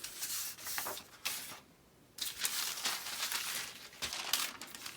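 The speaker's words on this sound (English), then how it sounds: "And to finish, I'll cut out the pattern." Scissors cut out a paper sleeve pattern, giving close crinkling and rustling of paper with soft snips in uneven bursts and a short quiet gap in the middle.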